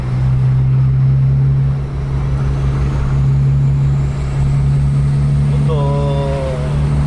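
A premium double decker bus drives along a road in Aceh with a steady low engine drone throughout. A short tonal squeal rises near the end.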